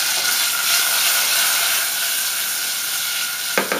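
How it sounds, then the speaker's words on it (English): Plums sizzling in melted butter in a saucepan, a bright steady hiss close up that eases slightly over time, with a brief utensil knock near the end. "Into the butter we're going to put the plums."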